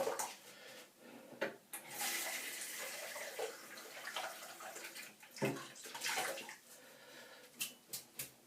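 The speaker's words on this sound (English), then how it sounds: "Let me just give my brush a little bit of a rinse." A paint brush swishes and sloshes in a water container for a rinse: a steady watery wash with a few louder splashy strokes and light knocks against the vessel, close up with no voices.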